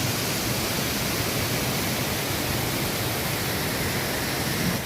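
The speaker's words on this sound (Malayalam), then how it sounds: "മൂന്ന് ഷട്ടർ അത്യാവശ്യം നല്ല ഫോഴ്സിൽ പോകുന്നുണ്ട് വെള്ളം" Water rushing out through three open shutters of the Kanhirapuzha dam, a steady dense roar that is loud and unbroken throughout, with no voices.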